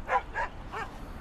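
Dogs barking at close range, a few sharp yips and barks in quick succession, with a whimpering quality, then trailing off.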